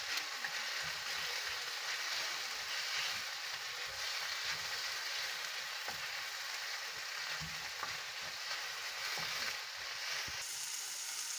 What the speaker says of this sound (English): Put my beef. Let it cook until it's dry.